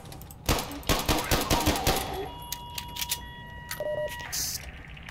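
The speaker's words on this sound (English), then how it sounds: "No, I think that was the pistol" A quick string of about eight sharp pistol shots in Half-Life 2, evenly spaced and fairly close, followed by electronic beeps and a few scattered clicks.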